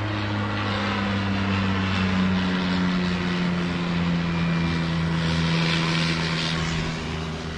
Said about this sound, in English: I love the crop duster.